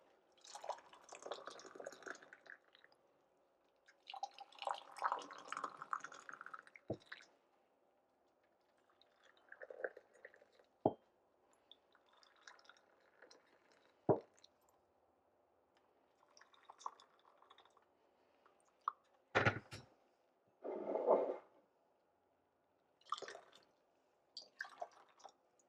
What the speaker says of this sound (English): as I'm spilling hot water everywhere